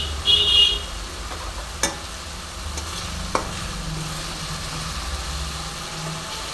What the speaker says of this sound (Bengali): দেখো, মশলা সুন্দরভাবে কষা হচ্ছে